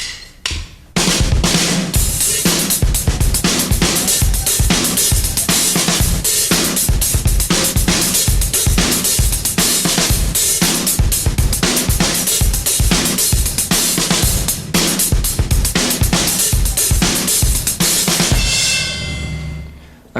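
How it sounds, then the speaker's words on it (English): Drum kit playing a Latin-style groove at full tempo with hi-hat accents, loud and close, dense rapid strokes from about one second in, continuing for some eighteen seconds and then fading on a cymbal ring. "now up to tempo, it would sound like this."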